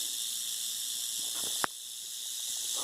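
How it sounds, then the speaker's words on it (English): A rattlesnake on the Appalachian Trail in Virginia buzzes with a steady dry rattling hiss, continuous and fairly close, broken briefly by a sharp tap near the middle. "That's 2 rattlers."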